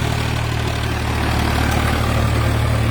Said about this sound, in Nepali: ट्र्याक्टर लगाउँदैछौँ, बारी जोतिन्छौँ।